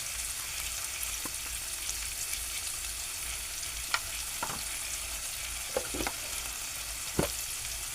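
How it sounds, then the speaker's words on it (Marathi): Chole masala with turmeric and spices being stirred in a frying pan gives a steady, faint sizzle, with a few soft spoon scrapes and taps scattered through it and no voices. "चांगला ढवळून घेतो"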